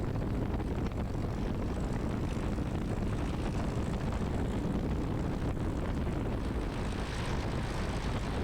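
The engine and propeller of a Piper J3 Cub drone steadily while it taxis toward a runway, a dense, even rumble that fills the whole stretch with no talk over it.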